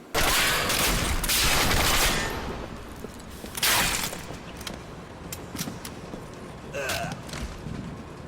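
Green barrel shot in a garage area of the video game Turning Point, giving a loud burst of rapid gunfire-like blasts that fades, followed by a second sharp hit and a hissing crackle with a rising tone.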